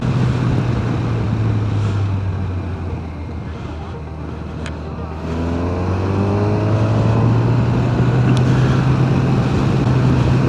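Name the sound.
Kawasaki Versys motorcycle engine while riding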